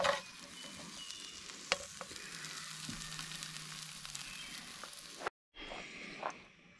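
Cheesy potatoes sizzle and fry in a pan on a camp stove while a utensil stirs and scrapes through them, a steady close crackle with occasional clanks and a brief pause near the end.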